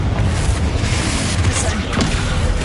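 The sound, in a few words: spell explosion in the video game Hogwarts Legacy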